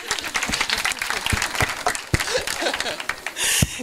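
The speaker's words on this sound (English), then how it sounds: "You can clap, it's fine." Applause from an audience at a talk in an African child village, a dense run of clapping with scattered louder claps and a brief surge near the end, alone without speech.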